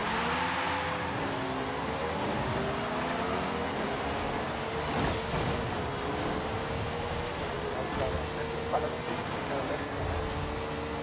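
A 1998 Mercedes-Benz CLK GTR race car in Forza Horizon 5, its engine droning with tones that rise and fall as it revs and shifts through gears, sustained and fairly loud amid a steady wash of road and wind noise.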